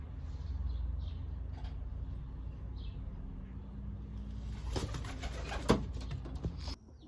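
Racing pigeons coo softly at their loft as birds return from a 643 km race into headwinds, the calls faint and intermittent over steady low rumble and wind noise, with a few sharper sounds near the end.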